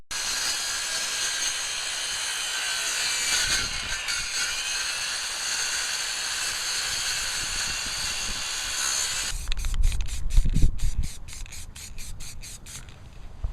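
A saw cutting along a drawn line on a tabletop edge, a steady high whining power-tool cut sustained for several seconds, then a rougher stretch of rapid repeated strokes and knocks toward the end.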